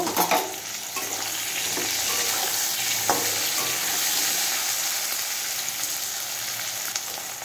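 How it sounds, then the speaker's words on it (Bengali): Cauliflower frying in hot oil in a pan beside eggplant, a dense steady sizzle heard up close with occasional spatula scrapes and light ticks, no one speaking. "ফুলকপিটাকে একটু ভেজে নেব।"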